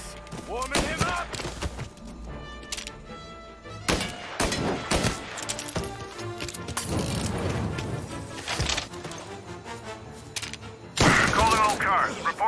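Gunfire in the Mafia Definitive Edition video game: repeated loud gunshots and bursts of fire crack throughout, mixed with thuds and shattering impacts over a busy game soundtrack, with a heavy volley near the end.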